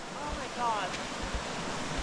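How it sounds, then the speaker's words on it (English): A small waterfall in a Scottish Highlands gorge gives a continuous rushing wash of water, heard from a distance with wind buffeting the microphone and faint voices. "There's like a little waterfall down there"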